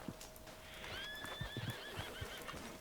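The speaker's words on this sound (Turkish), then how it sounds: "Ne çok kişnedin lan." Horse in the video game Red Dead Redemption 2 gives a shrill, wavering neigh lasting about a second, close by, over soft hoof clops.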